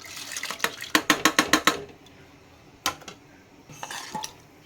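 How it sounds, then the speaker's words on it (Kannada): Washed lentils tipped into a pressure cooker of water with garlic, onion and chillies, a quick run of about seven sharp metallic clinks of a spoon against the cooker rim, then a few scattered knocks, near and clear. "ಬನ್ನಿ ಇವಾಗ ಬೇಳೆ ಹಾಕ್ಕೊಳ್ಳೋಣ"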